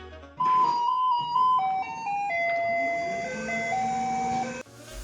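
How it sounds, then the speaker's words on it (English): A Taiwanese garbage truck plays an electronic Beethoven melody as a loud, steady chain of pure, bright tones, one note after another, ringing alone for about four seconds before cutting off. "regularly scheduled garbage trucks that can be heard playing Beethoven when they drive by"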